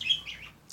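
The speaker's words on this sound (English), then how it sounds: "I got birds talking to me" Birds chirp faintly for under a second, a few quick high tweets over quiet room tone.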